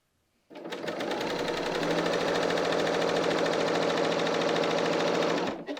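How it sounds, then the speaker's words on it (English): A Bernina L 890 overlocker runs continuously, sewing a four-thread side seam on a knit dress. It gives a steady, fast, close mechanical whir that starts abruptly and stops after about five seconds. "So we're just going to start sewing along the side seam."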